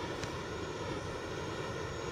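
Helicopter in Call of Duty Mobile, a battle royale video game: a steady, loud rotor and engine drone runs unbroken, close by and with no talk over it.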